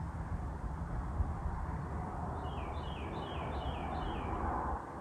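A few birds chirping in the distance, faint repeated sweeping calls over a low, steady background rumble outdoors.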